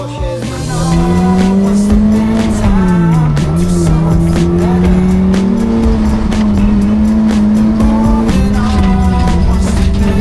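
A century-old Fiat race car drives at a racing event, its engine droning loud and close with a continuous, wavering tone that rises and falls as the revs change.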